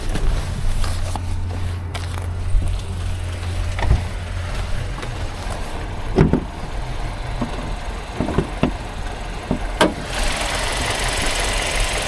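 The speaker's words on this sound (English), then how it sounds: "it does sound like a cracked manifold or a leaky manifold gasket" An engine with a cracked or leaking exhaust manifold runs steadily with a rough, ticking, puffing exhaust note and occasional sharper knocks, heard close with no talking.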